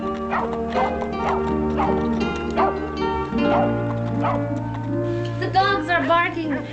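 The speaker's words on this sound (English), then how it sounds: "The dogs are barking." Dogs bark and yip repeatedly in a western TV drama scene, sharp bursts spaced through the passage over a steady low hum, with a voice speaking partway through.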